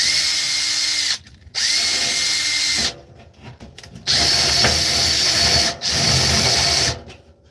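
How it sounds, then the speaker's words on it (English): A power drill driving screws to hold a motor upright runs in several loud, steady bursts, each a few seconds long, separated by short pauses with clinks and handling noise. "I'm putting these screws in just to hold the motor upright so it doesn't sag"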